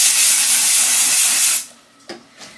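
A loud, steady hairspray aerosol hisses continuously for about a second and a half onto the top of the hair, then cuts off, leaving quiet with a couple of faint handling noises.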